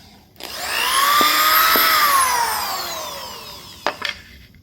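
A power drill boring a screw hole into a couch's wooden frame, one whining run that rises, holds and slowly winds down, followed by a couple of sharp knocks.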